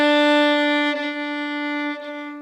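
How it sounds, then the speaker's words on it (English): A violin holds a bowed note that starts loud and then drops step by step into a quieter tone, a close, solo decrescendo. "you should practice the opposite, and that's called a decrescendo"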